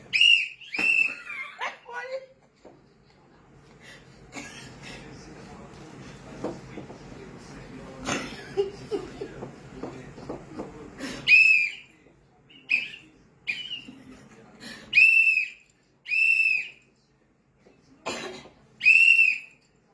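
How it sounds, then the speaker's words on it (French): A whistle is blown in several short, sharp, shrill blasts during a live stream, coming in separate bursts with gaps between them, and people talk and shout loudly in the stretches before them. "Quand je sors le sifflet, ça veut dire que..."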